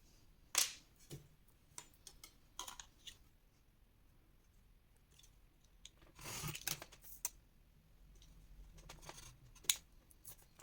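Scissors snip through paper in scattered, sharp clicks with quiet pauses between, including a denser flurry of cuts near the middle, while pieces are trimmed for a Harry Potter scrapbook pop-up album.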